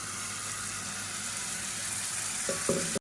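Onions sauté in a pan for a Tamil thokku, a steady close sizzle and crackle with brief stirring scrapes near the end.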